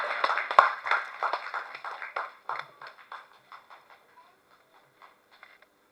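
Press meet audience claps in a brief scattered burst that thins out and fades over several seconds, quiet and somewhat distant.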